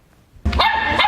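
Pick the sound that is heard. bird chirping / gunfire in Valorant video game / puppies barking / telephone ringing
puppies barking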